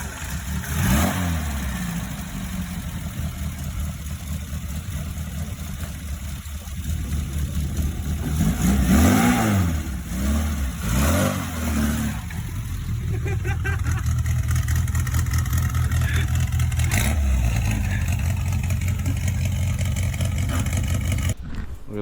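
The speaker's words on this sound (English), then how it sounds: "Car runs, it drives." A classic Mini's engine runs steadily, then revs in several rising and falling bursts, loud and close, settling back to a rough idle with a rumbling low-end drone.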